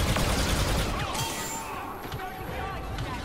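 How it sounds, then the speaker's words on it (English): A minigun spraying in the Star Wars: Operation Resurrection game: steady rapid-fire rattle mixed with explosions and combat clutter, running continuously at moderate volume with talk over it. "I was holding up my minigun instead"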